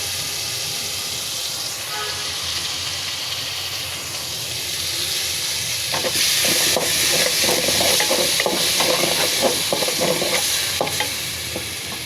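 Fresh fish fries in hot oil with ground onion, garlic and ginger paste, giving a steady loud sizzle and hiss with scraping stirs. The sizzle swells partway through, with a few sharp clinks.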